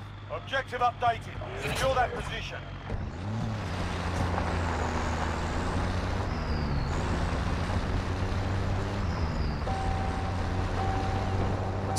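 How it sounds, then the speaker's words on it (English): A vehicle in Warzone Mobile runs out of fuel: a steady engine drone sputters and dips in pitch, after a brief stretch of talk at the start. "that's the sound of no more fuel"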